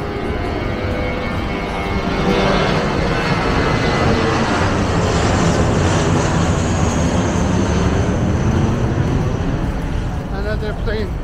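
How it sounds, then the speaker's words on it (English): A loud, steady jet engine roar builds and holds as an airplane takes off nearby on rainy, windy Koh Samui, Thailand, with faint voices underneath. "Another plane left here."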